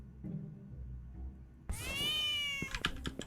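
A gray cat in a cat-themed horror survival game meows once, loud and close, with a long drawn-out cry and a short trailing sound after it, following a quiet low rumble.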